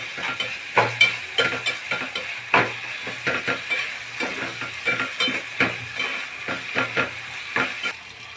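Onions frying over a low gas flame for a capsicum and potato bhaji, with a steady soft sizzle under repeated scraping stirs of a spatula in the pan, close and moderately loud, no talking.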